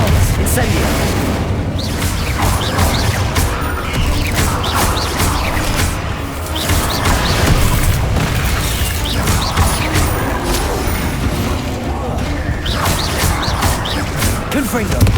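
Spell effects from the Hogwarts Legacy video game, including Confringo, Expelliarmus and Incendio, burst out as a dense, continuous run of loud blasts, crashes and pops. Voices are mixed in throughout.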